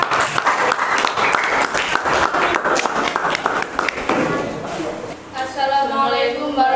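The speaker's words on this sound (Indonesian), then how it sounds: "kita beri aplaus yang meriah" A group of people in a classroom break into lively, sustained clapping and applause that fills the room, tapering off near the end as a voice begins speaking.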